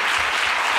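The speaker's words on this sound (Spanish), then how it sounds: "Primer aplauso del prólogo, hombre." A brief burst of steady audience applause for a book's prologue, dense clapping from a small crowd with no pauses.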